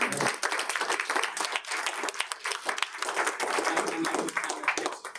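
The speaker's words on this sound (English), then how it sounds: "and so round of applause for Kate." A room full of people at a Board of Education meeting applauds steadily, dense clapping holding at an even level for several seconds before starting to taper.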